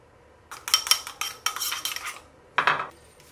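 A spoon clinks and scrapes against a bowl while sugar, pepper and syrup are stirred into a sauce for sausage rice cake skewers, giving quick irregular metallic taps close by with a brief pause before a final burst.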